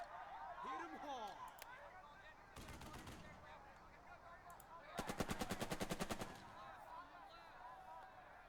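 Video game combat: a short burst of gunfire near 2.6 s, then a longer rapid machine-gun volley around 5–6 s, loud over a murky battle ambience with faint bird-like chirps.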